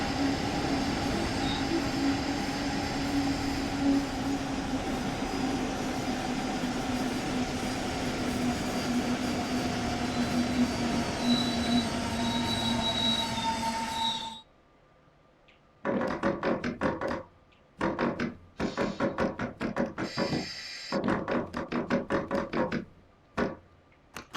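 Train running in Train Sim World: a sustained rumble with high, steady squealing tones from the wheels. It cuts off abruptly and gives way to bursts of clanking and thudding rail noise.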